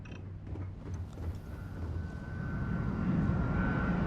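Starfield spaceship engines warming up, a low rumbling roar that slowly builds and thickens, with a thin steady whine emerging on top as it grows louder.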